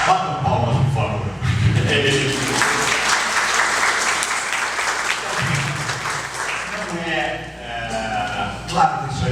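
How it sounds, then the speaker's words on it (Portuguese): Audience applause fills a symposium hall on art, psychoanalysis and madness, a dense sustained clatter of clapping hands that runs loud and steady for several seconds, with voices murmuring underneath. "Bata palmas, por favor."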